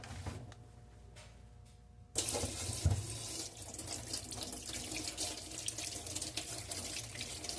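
Kitchen tap water splashes into a sink while carrots are washed, starting after a quiet stretch of soft handling noise and then running steadily and close, with no talking.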